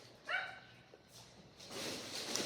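A dog wanting to come in gives a single short, faint bark or yip from a distance, followed by quiet rustling and background noise.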